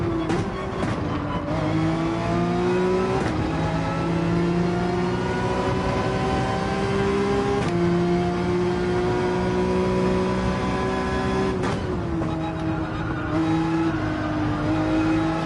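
Race car engine in Gran Turismo 7 under steady throttle climbing a hill, a loud sustained drone with pitch rising and falling through several gear shifts, no talking.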